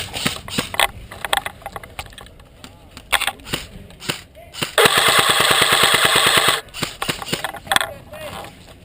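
Airsoft guns firing outdoors at a Colorado field, with scattered single pops, then a long rapid burst of close, loud shots before more sporadic pops, while players shout in the background.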